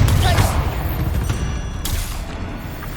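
Blasting Confringo spell explosions in the Hogwarts Legacy video game, a dense run of booming bursts with a sharp crack near the start and another near the end over a constant low rumble of combat, with some voice mixed in.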